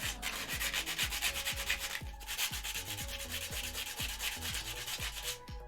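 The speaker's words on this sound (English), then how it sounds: "For some, the sandpaper would be ASMR." Sandpaper rubbed by hand in steady back-and-forth strokes, close and loud, at roughly two strokes per second with a brief pause near the middle, no voices.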